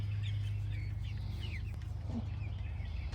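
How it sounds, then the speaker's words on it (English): Chickens and a rooster in a no-till garden yard, soft clucks and short calls at a distance over a low steady hum, faint overall with no talking. "That's a good rooster right there."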